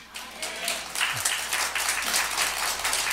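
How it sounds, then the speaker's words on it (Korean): Congregation at a Catholic spiritual lecture given by a priest breaks into a round of applause, steady broadband clapping of a moderate-sized crowd lasting a few seconds. "박수 한번 주세요"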